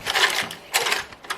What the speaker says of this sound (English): Then we're going to come over here and sew this buttonhole.